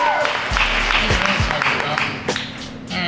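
An audience at a poetry festival claps for itself, a dense burst of applause with a low thump and a voice speaking over it.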